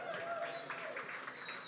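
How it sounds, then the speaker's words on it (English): Audience applause and cheering fill a paper fashion gala program, a continuous wash of clapping from a sizeable crowd, with a faint whistle tone and some voices mixed in. "One more round of applause, everybody."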